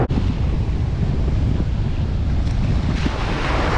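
Steady wind buffets the microphone on an Aruba beach, a loud continuous roar with low rumbling gusts and a faint wash of surf beneath, no voices.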